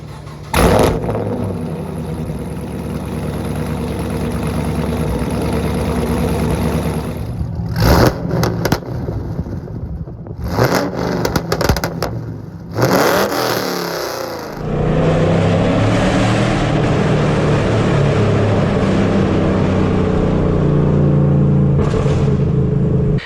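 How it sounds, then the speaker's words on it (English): A car with a straight-piped exhaust idles with a deep rumbling drone, then is revved in several sharp bursts that crackle and pop, before settling back into a loud, steady idle. "Here are a couple clips of how my exhaust setup currently sounds."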